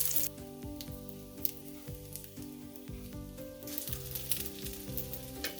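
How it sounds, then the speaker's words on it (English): Spam luncheon meat frying in oil on a heated pan over medium heat, a close, steady crackling sizzle with scattered pops and faint clinks, no voices. "we're going to cook the spam or luncheon meat on a heated pan"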